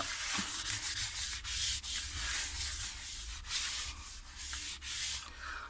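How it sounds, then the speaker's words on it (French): A cutting mat is rubbed clean by hand during card-making, giving a steady, close, continuous scrubbing hiss with brief dips between strokes and no voices. "Je vais nettoyer mon tapis de coupe."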